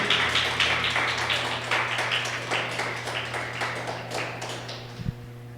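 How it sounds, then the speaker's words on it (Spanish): A church congregation claps steadily for several seconds, a fairly loud rhythmic applause over a low steady hum, thinning out at the end with a couple of louder taps. "Denle una ofrenda de aplausos al Señor"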